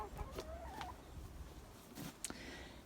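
A backyard hen clucks faintly in scattered short calls amid low rumbling background noise, with a few sharper knocks near the end.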